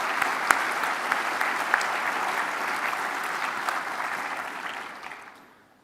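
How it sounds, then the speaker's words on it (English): Applause from a convention audience after a presidential address, a broad even wash of clapping that holds steady and then fades out over the last second. "I think let's just give them another round of applause."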